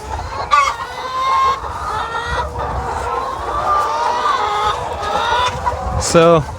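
Chickens in a pastured egg coop cluck and squawk close by, in irregular bursts with a rooster-like call near the end, over some background noise.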